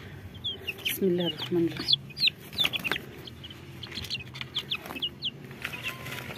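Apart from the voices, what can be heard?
baladi chicks cheeping on a rooftop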